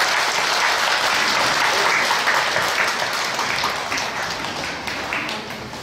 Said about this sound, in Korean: 우리 아동부 아이들, 우리 수고하시는 선생님들 위해 다시 한번 박수 부탁드립니다